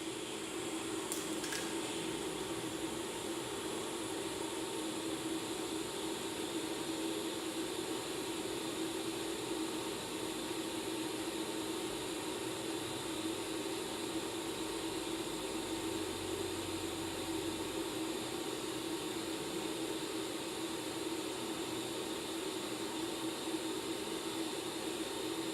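TIG welder arc burning at 55 amps with a PRO-TEC 100S, a steady, even hiss and buzz that runs unbroken throughout and stays fairly faint.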